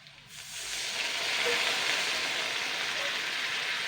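Water hits a hot pan holding fish eggs and sets off a sudden loud sizzle. The steady, hissing bubbling then carries on at full strength to the end.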